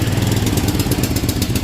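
A John Deere GX75 lawn tractor's small engine runs on full choke just after starting, a loud steady rough mechanical drone with rapid rhythmic firing pulses, close up and with no talk over it.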